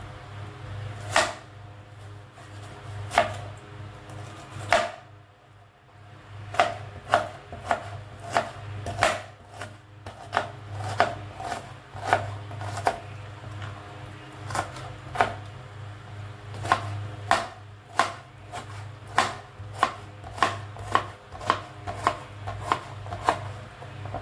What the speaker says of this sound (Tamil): வெங்காயத்தை நல்லா கட் பண்ணிக்கலாம்.